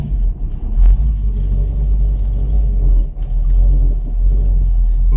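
A Dodge Charger accelerates hard, its engine a loud, deep rumble close by that surges and drops briefly before pulling on.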